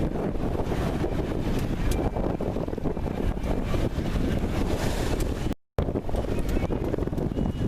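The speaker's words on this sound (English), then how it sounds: "the waves crashing in on the wall" Sailing close to a wall, waves crash in against it in a loud, constant wash of water and wind buffeting the microphone, with a brief dropout near the end.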